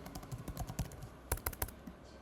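Python code being typed on a computer keyboard, a run of quick, uneven keystrokes with a denser burst of clacks near the end, fairly close and clear with no talking.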